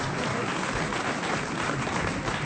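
Steady, loud applause from a television studio audience, dense clapping sustained throughout without pause.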